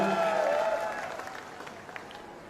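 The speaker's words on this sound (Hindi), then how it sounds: "उनके बीच जोरदार तालियों से गड़गड़ाहट से स्वागत चाहता हूं" A crowd at a political rally applauds to welcome an arriving speaker, a broad wash of clapping that starts with a tonal hum and gradually fades to a quieter, thinner patter.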